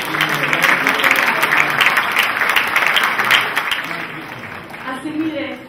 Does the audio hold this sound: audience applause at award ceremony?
yes